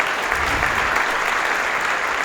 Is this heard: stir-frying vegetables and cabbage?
no